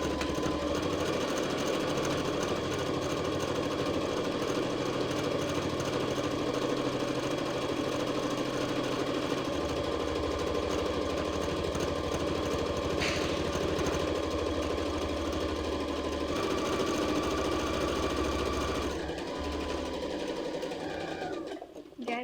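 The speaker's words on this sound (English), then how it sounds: "we are going to sew all the way around" A sewing machine stitches steadily around the edge of a fabric tie headband, a continuous whirring hum running for over twenty seconds with a brief change near the end as the fabric is pivoted at a corner.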